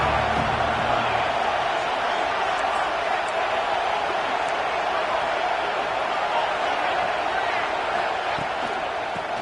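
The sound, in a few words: football stadium crowd cheering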